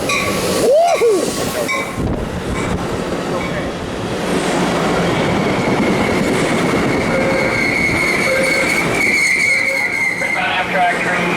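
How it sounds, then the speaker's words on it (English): An Amtrak train rolls past close by at Fullerton, with loud continuous rail roar, wheel clatter and squeal, and a brief horn-like tone near the start; people talk and cheer over it. "Amtrak train."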